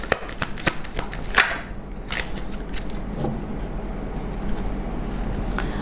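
Oracle cards are shuffled and drawn in a series of quick papery riffles and taps, close and fairly clear against a low background hum, with no voice over them.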